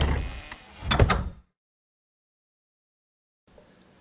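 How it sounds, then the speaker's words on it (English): A door sound effect for a mobile app animation plays as a close, loud sliding rush with a couple of sharp knocks, then cuts to silence before a faint soft tail returns. "Now, when Wukong travels between the doors, the sprites are synced with the sound effects."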